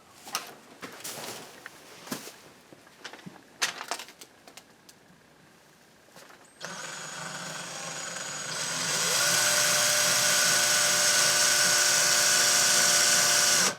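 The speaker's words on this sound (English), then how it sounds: "it was drilling into the sheetrock nice and easy, and all of a sudden it stopped" Scattered taps and knocks give way to a power drill that starts up, then rises to a loud, steady high-pitched whine boring through sheetrock.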